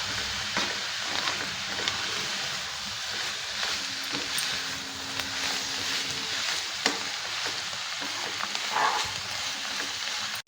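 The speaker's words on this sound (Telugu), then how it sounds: "అల్లం వెల్లుల్లి పేస్ట్ పచ్చివాసన పోయిందాక వేగిందండి" Ginger garlic paste fries in a pan for a cabbage curry, giving a steady, close sizzle with faint crackles and occasional stirring scrapes throughout, with no talking.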